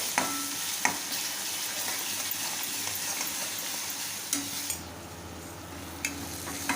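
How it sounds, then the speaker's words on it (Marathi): Green chili thecha with salt roasting in a pan, a continuous close sizzle with occasional clinks and scrapes of a spoon against the metal. "मिरचीचा ठेचा भाजून झाला आहे"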